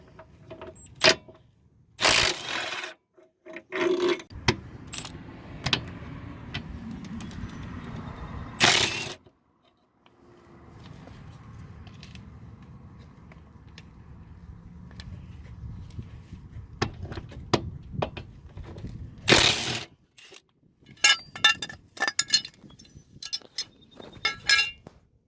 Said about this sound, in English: You want to remove these both first on each side before you remove the subframe bolts by the strut